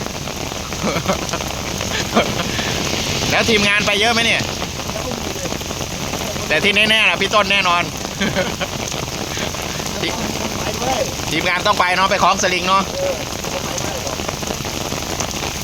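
Heavy rain pours steadily throughout, a dense constant hiss, while people talk over it in short bursts.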